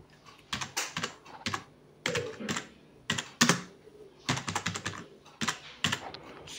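Computer keyboard typing in short bursts of quick, close key clicks separated by brief pauses, quiet and alone with no talking.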